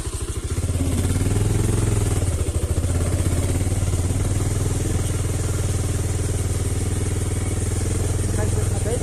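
A new motorcycle engine idles with a steady, close, throbbing rumble and light mechanical clatter, holding an even pace for the whole stretch.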